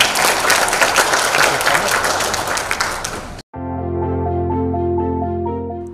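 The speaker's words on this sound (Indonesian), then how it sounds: "ini harus tepuk tangan dulu kita" A hall audience at a government social and economic data presentation in Kediri claps loudly and densely for about three seconds. The applause cuts off abruptly and gives way to music.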